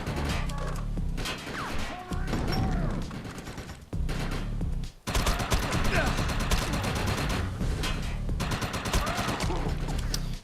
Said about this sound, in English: Don't let those freaks shoot me.